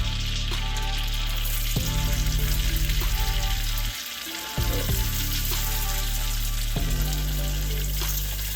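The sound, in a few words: cabbage sizzling in butter in a pan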